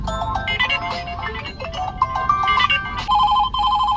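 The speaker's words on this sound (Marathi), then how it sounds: "पप्पांचा फोन आला" A phone ringtone for an incoming call plays continuously as a bright, melodic electronic tune, close and fairly loud with no voices over it.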